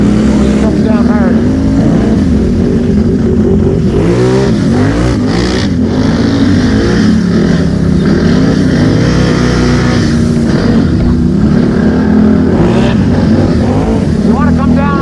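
A Can-Am Renegade ATV engine revs and roars loudly and close in the Glades, pitch sweeping up and down as the throttle is worked, with voices talking over the constant motor noise.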